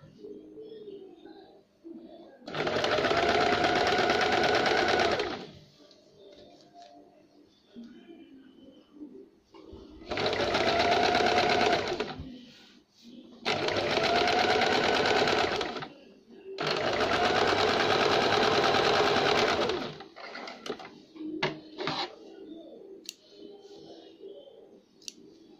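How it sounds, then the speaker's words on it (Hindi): A sewing machine runs in four loud sustained bursts, stitching lining into a jumpsuit at the armhole and neck, with quiet pauses, faint handling clicks and low background voices between runs. "आर्म होल की तरफ से हम इसे यहाँ तक सिलेंगे और नेक की तरफ से यहाँ तक सिलेंगे"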